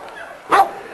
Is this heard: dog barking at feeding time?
yes